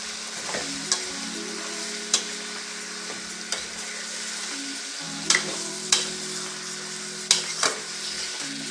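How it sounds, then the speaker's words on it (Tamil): Half a kilo of chicken sautéing in thick gravy in a pan, a steady sizzle broken by sharp, repeated scrapes and knocks of the spoon as it is stirred, close by and without any voices. "கறி நல்லா வதங்கி வெந்து வரட்டும்"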